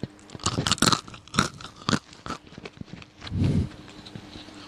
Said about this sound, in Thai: จะเคี้ยวให้ฟังได้ยิน